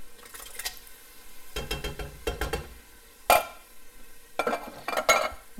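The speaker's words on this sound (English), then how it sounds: "And we'll get that mixed up really well." A spoon stirs diced tomatoes into a pot of vegetables for catfish court bouillon, giving intermittent scraping and clinking against the pot with soft sizzling in between.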